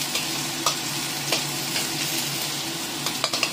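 Garlic fries and sizzles in a pan for chicken red curry, a steady close crackle with occasional stirring clicks and scrapes throughout, no talking.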